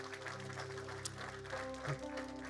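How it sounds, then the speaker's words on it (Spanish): A church congregation claps steadily for a few seconds, a dense wash of applause laid over sustained keyboard or organ chords that keep playing throughout. "Vamos a darle un aplauso al Señor."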